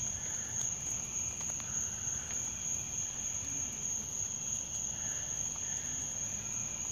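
Cicada caught by a copperhead snake, a continuous high-pitched insect buzz droning steadily outdoors at moderate volume, with no talking.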